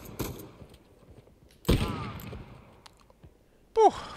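Bursts of gunfire in the video game Uncharted 4: a few sharp shots at scattered intervals, loud and close, with a voice speaking between them.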